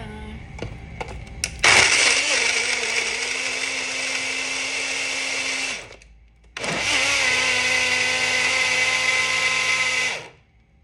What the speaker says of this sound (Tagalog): Ayan guys, blender na natin siya.